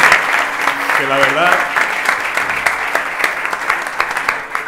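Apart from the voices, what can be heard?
audience applause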